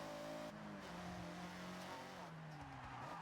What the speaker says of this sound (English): The Miata actually sounds pretty good.